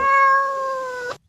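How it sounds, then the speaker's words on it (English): One sustained, tonal cat meow sample played on a synthesizer sounds clear and close, holding a steady pitch before cutting off abruptly. "That cat sounds sad."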